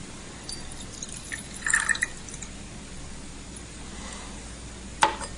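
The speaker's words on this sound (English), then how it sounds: "So I've got some alcohol here. We'll just pour that in." Alcohol fuel poured into a burner from a container, a faint liquid trickle with soft drips and a brief burst of pouring, plus a sharp clink near the end.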